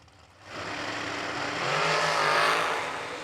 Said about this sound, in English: The Ohio-based green, black, and silver dragster on the right-hand side will give chase